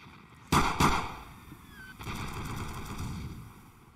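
In the video game Bean Battles, grenade launcher explosions go off as two sharp close blasts in quick succession. A longer, rougher burst of rumbling explosions follows, fading slowly over game sounds with no talking.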